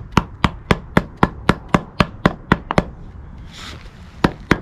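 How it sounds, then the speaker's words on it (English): A hammer strikes repeatedly to seat a Roadmaster bushing into an RV rear track bar, about a dozen sharp, evenly spaced metallic blows at close range with a brief pause near the end. "use my hammer"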